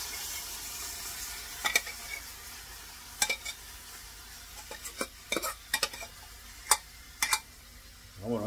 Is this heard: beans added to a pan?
yes